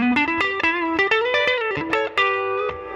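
A Fender Custom Shop '67 Stratocaster on its neck pickup plays a fluid, singing lead phrase with a round, warm tone and light reverb, notes bending and sustaining.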